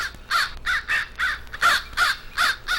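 A crow gives an alarm call, a loud, close run of about eight harsh caws in an even, rapid rhythm.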